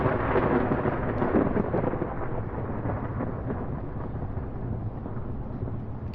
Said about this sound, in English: To heck with this storm. It can bite me.